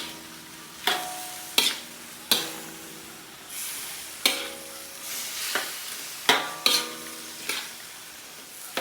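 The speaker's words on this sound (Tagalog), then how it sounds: "Pwede nating haluin kaagad kapag kalagay pa lang ng repolyo dahil hindi ito matatapon." Cabbage stirred in a wok for creamy chicken chop suey, a spatula scraping and clanking against the metal in repeated sharp strokes every second or so, over a soft steady sizzle of frying.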